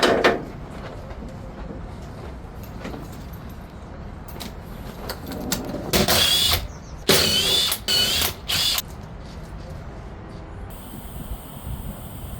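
A wrench working on car parts of a Nissan R34 Skyline with a Beams turbo engine: quiet workshop background, then several short, loud ratcheting bursts close by near the end.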